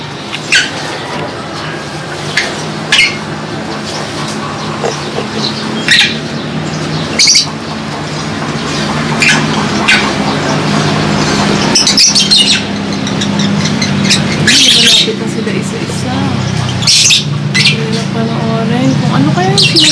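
African lovebirds kept at home give off repeated sharp chirps and squawks, loud and close, over a steady background hum, while people talk through much of it.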